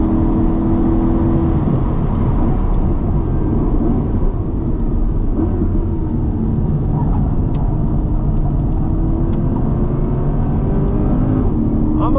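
A Chevrolet Corvette E-Ray all-wheel-drive hybrid pulls hard under throttle, a steady loud engine and drivetrain roar heard from inside the car, rising slightly in pitch across the run.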